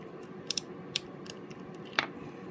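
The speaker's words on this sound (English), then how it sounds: "counterclockwise until you hear it click like that" Clicks from a vintage Abu Ambassadeur 5000 baitcasting reel part as it is turned by hand: a few sharp, close mechanical ticks spaced irregularly, with a distinct louder click near the end over a quiet background.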